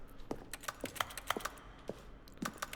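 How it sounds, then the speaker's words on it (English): Keyboard typing in The Stanley Parable game: a run of quiet, distinct clicky keystrokes in an uneven rhythm, heard alone with no talking. "I like how the typing sounds."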